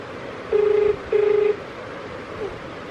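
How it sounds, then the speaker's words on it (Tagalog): A telephone dials with touch-tone beeps, two longer tones and then a short faint one, heard close and clear over a quiet room. "Excited yung pag nagre-ring ang telepono."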